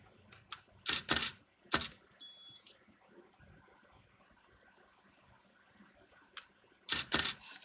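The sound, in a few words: camera shutter shooting a focus stack of images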